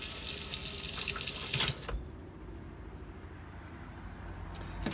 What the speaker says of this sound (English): move over to one of the taps and draw the water through